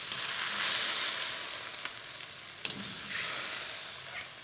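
Fish for a fish karahi fries in hot oil, giving a steady loud sizzle with a brief clatter partway through, with no voices.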